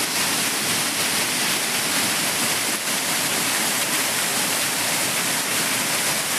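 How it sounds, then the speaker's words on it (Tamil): Courtallam waterfalls in Tenkasi swollen with floodwater after heavy monsoon rain, a loud, steady roar of cascading water filling the whole soundscape without pause. "மேற்கு தொடர்ச்சி மலைப்பகுதிகளில் நேற்று மாலை பெய்த கனமழையால் தென்காசி மாவட்டம் குற்றால அருவிகளில் வெள்ளப்பெருக்கு ஏற்பட்டுள்ளது"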